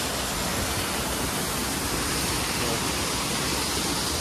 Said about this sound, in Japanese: 九段の滝です